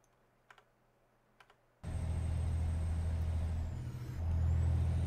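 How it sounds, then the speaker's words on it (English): After a few faint clicks, a heavy truck engine in American Truck Simulator suddenly rumbles in loudly and keeps droning, swelling slightly toward the end. "the truck is drowning out Cappy's voice?"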